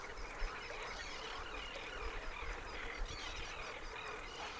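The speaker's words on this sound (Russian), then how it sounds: "На залитых водой просторах устраивают пиршество птицы." Flocks of waterbirds such as geese and ducks gather over wide flooded waters, a dense mass of honking and quacking calls carrying at a moderate distance under a steady outdoor background, with no talking.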